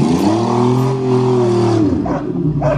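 A beaten 1990 Chevrolet Celebrity wagon engine accelerates with a loud, close, steady droning roar that holds for about two seconds, then eases off and trails away.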